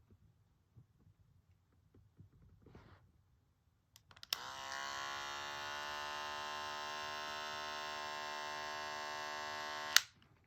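Old, cheap Remington ceramic electric hair clippers switch on and hum with a steady buzzing drone for several seconds, then click off; faint handling noises come first.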